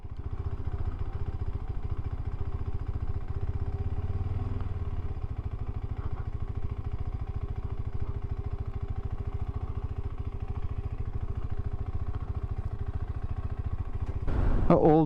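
A motorcycle engine runs steadily throughout on a rural Norwegian road during a solo camping trip, a constant low drone with a brief louder burst near the end.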